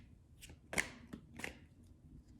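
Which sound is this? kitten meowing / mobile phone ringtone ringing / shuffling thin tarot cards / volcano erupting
shuffling thin tarot cards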